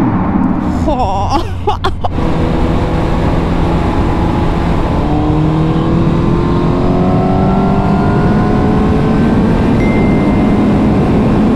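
A loud motorcycle engine roars and revs continuously, its pitch climbing steadily, with a burst of rattling near the start and no clear talk.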